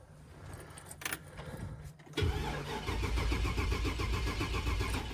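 A 2000 Chevy Express van engine cranks with a rapid, steady starter churn for about three seconds, close and loud, after a brief jangle of keys and a faint hum.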